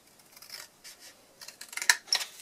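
Scissors cut through cardstock while a gift box is made: a run of faint, crisp snips and paper rasps that gets a little louder and sharper toward the end, close by with no talking.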